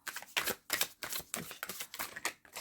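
A tarot card deck is shuffled close up, a quiet run of rapid papery riffles and taps in quick bursts, with no talk.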